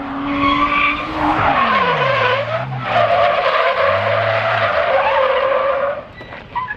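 A drifting car on a track gives loud, continuous tire squeal and skidding, with the engine note dipping and rising through the slide before cutting off near the end.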